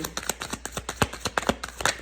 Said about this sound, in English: So when I was shuffling both decks, there was a lot of resistance in the cards